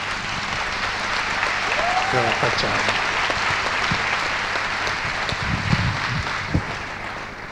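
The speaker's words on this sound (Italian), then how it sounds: "perché veramente un applauso" An audience claps steadily for a guest at an Italian talk on research into the infinite, the applause filling the room at moderate distance while a voice speaks briefly over it.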